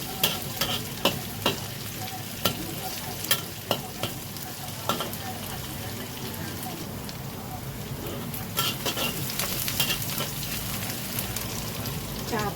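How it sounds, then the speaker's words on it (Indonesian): Sardines in spicy sauce being stir-fried in a pan, a steady sizzle with repeated scraping and clacking of a spatula stirring the food, close and fairly quiet throughout. "Gongseng biar layu dan matang."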